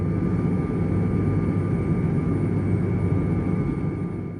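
Steady, loud broadband cabin roar inside a 31-year-old QantasLink Fokker 100 jet in cruise flight, a dense constant engine and airflow rumble with a faint tonal hum, no voices.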